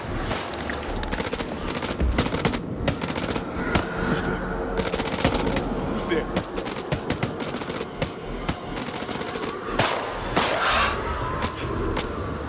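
Pistol gunfire in the video game House of Ashes, loud and close, a dense run of rapid shots and booms with thuds mixed in over a busy game soundtrack.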